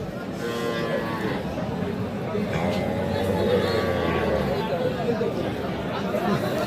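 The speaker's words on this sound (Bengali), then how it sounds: "এইটা গাভী। আর এইটা কিন্তু বাছুর।" A Sahiwal cow at a cattle market gives a long low moo amid a murmuring crowd, with people talking nearby throughout.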